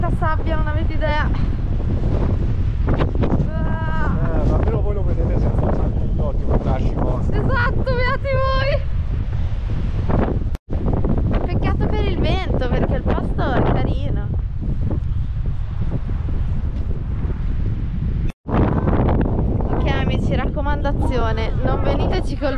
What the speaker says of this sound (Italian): Non veniteci col vento, perché non è uno di quei posti da venirci col vento